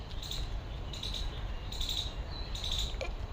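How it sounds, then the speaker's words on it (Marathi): Birds chirp outdoors on a cold morning near a guava tree, sending out short repeated high bursts of chirping at regular intervals over a low rumbling background. "येतोय आवाज? पक्ष्यांचा किलबिलाट सुरू आहे."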